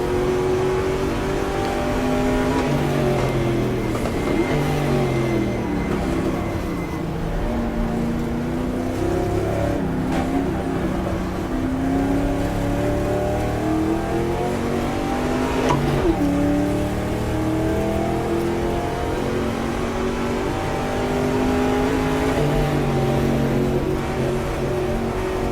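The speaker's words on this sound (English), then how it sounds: "Can hear a car coming out of the pit lane as well." Race car engines from the GTR2 racing game at the 1966 Daytona 24 Hours, with a Ford GT40 running close behind, revving and shifting steadily through sweeping pitch rises and falls, loud and continuous throughout.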